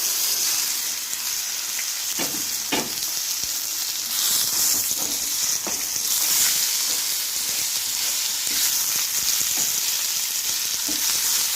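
Marinated chicken for chicken momos fries in a pan, giving a steady, loud broadband sizzle throughout with occasional soft stirring scrapes and no talking.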